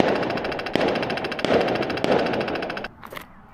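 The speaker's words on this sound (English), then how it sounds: "You guys see the fireworks?" Fireworks go off in a dense, continuous crackle punctuated by a few sharp bangs before the barrage suddenly drops away to scattered pops.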